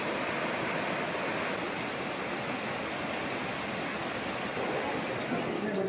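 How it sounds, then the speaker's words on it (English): Water pours steadily at the Tabacon thermal springs in Arenal, Costa Rica, a loud, unbroken rush like a small waterfall or fast stream that fills the whole scene without pause. "Here are the thermal springs."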